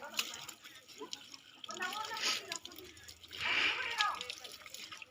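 Water splashing in irregular bursts as someone washes hands and face outdoors at a farm field, close trickles and splatters with quieter gaps, and voices talking faintly underneath.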